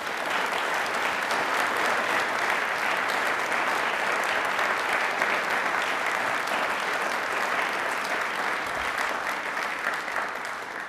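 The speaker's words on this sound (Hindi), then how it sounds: "अपने लिए तालियां एक बार पहले जोरदार बजाइए प्लीज।" Studio audience applause on a televised quiz show, a thick, steady wash of many hands clapping that stays loud and unbroken for about eleven seconds.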